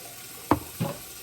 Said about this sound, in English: Stir this a bit more.